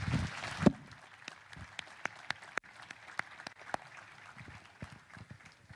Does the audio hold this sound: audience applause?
yes